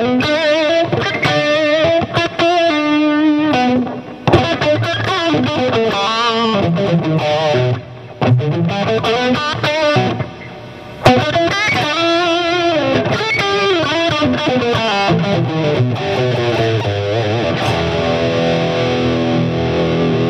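An electric guitar played through a Randall T2 amp head modelled in Overloud TH2, set to crunch distortion, rings out loud and alone in chords and sustained notes with brief pauses between phrases.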